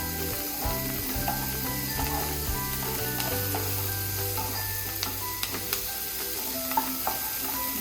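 Capsicum sizzles and fries in a pan in a steady close crackle, with a few light clinks and stirring sounds over it.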